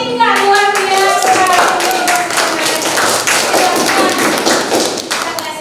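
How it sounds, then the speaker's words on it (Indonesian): A classroom of students claps for a group about to present, a dense, steady burst of many hands lasting several seconds, loud and close, with a few voices briefly mixed in at the start. "tepuk tangan dulu untuk kelompok 3, luar biasa"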